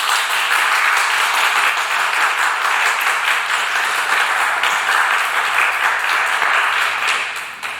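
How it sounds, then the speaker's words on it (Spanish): A Spanish-speaking lecture audience gives a loud, sustained round of applause welcoming a female doctor before her conference-concert on nineteenth-century opera, many hands clapping evenly for about eight seconds before a brief drop at the end. "para quien pido un fuerte aplauso"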